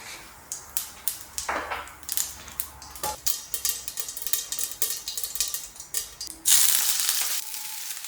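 Aubergine fries in sesame oil in a pan, giving a crackling sizzle with repeated sharp pops and stirring knocks, then a louder, denser hiss near the end.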